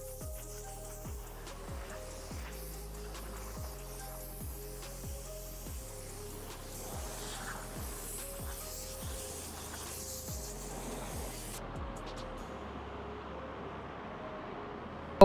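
Compressed air blowing off a car in a running paint booth before sealer goes on, a steady hiss with repeated short pulses of air, moderately near, ending in quiet near the end.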